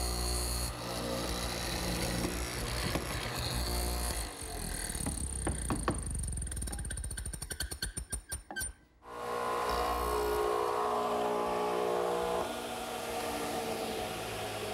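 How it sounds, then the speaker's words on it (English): A radial arm saw fitted with a stacked dado head cuts wood, a steady loud whine and rasping bite that winds down and stops partway, then a noisy workshop hum continues. "I'm using the radial arm and the stacked dado head cutter to create a flat spot for the shoulders of the tenon"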